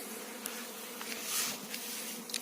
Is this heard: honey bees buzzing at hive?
yes